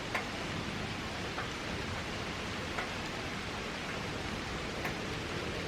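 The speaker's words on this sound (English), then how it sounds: "just a nice, calm, soothing rain this morning" Calm, soothing morning rain falls as a faint, even hiss, with occasional soft drip-like ticks and no voices.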